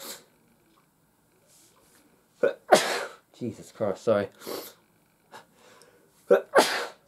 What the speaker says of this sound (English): I'm going to sneeze in a second because I've got hay fever